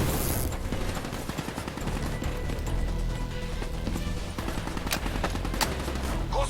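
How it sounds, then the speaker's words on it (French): Dense, sustained automatic gunfire and explosions fill a Black Ops 3 campaign battle, loud and continuous throughout with sharp bursts standing out, and no speech over it. "Concentrez vos tirs sur les tours de refroidissement autour de Diaz."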